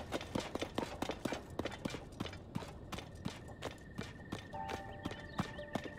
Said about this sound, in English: Okay, horses here.